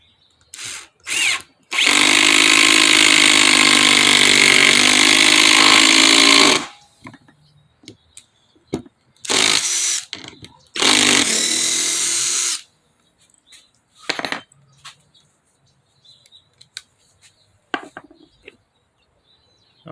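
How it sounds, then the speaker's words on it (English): A Hercules 20V impact driver drives screws into wooden legs in loud close bursts: one long run of several seconds, then shorter hammering runs, separated by quiet gaps with small handling knocks. "And now we're gonna do 2 legs. See how it does."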